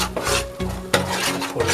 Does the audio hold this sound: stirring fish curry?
yes